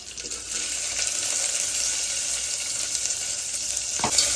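Steady hissing sizzle of onions frying in hot oil, close by and continuous, with a brief clatter near the end and no talking.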